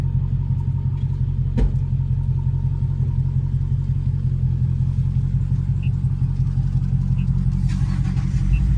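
Deep, steady rumble of a 2018 Dodge Charger Hellcat with a straight pipe exhaust idling close by, loud and continuous with a low throbbing drone throughout, one brief sharp knock early on, no talk over it.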